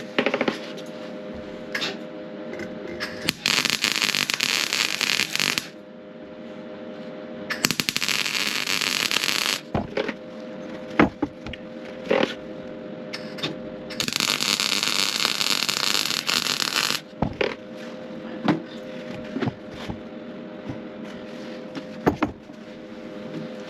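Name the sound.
welding solar panel mounts onto a Sprinter van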